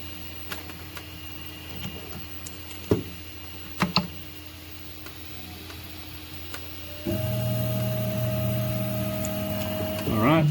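A Prusa i3 MK3S 3D printer at work, with sparse ticks and clicks at first, then steady motor whirring and rising stepper tones later, recorded close in a quiet room.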